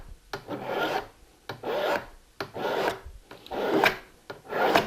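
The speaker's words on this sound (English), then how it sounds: "Just run the file right along the corner," A half round file rasps along the corner of a metal homebuilt aircraft part in five firm, evenly spaced strokes, each a broad gritty scrape with short pauses between, close and fairly loud.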